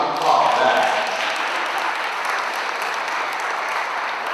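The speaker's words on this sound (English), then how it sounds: "please, round of applause for that." Audience applause at a Bronx community housing event, a dense, steady wash of clapping from a crowd, loud and close, sustained evenly throughout with a brief murmur of voices near the start.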